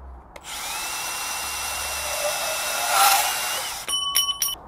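Power saw cutting electrical conduit pipe for a saddle bend, a loud steady high whine lasting several seconds, then stopping with short rattling bursts as the cut finishes.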